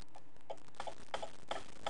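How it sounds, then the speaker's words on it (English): A metronome ticks steadily with quick, evenly spaced clicks at moderate volume, heard alone without any talking. "A ticking metronome."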